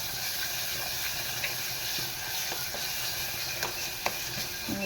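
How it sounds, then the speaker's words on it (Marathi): Vegetables sauté in hot oil with a constant bright sizzle and hiss, broken by occasional clicks and scrapes of stirring, close up with no speech. "छान असं तेलावर परतू त्याला."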